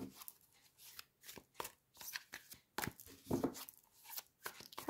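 Tarot cards being shuffled by hand in quick, separate bursts of riffling and slapping, close and fairly quiet, with no speech over them.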